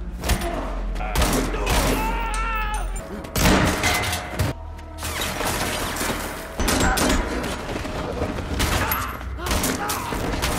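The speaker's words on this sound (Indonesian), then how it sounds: "menembaki para gangster ini" Gunfire in a gangster shootout from an action film comes as repeated bursts of shots and heavy impacts among loud soundtrack effects, with a narrator speaking over it.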